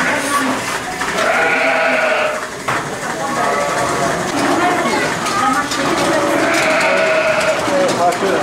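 Lacaune dairy sheep, a breed kept for Roquefort cheese, bleat loudly and repeatedly at close range, several calls overlapping into a continuous flock chorus.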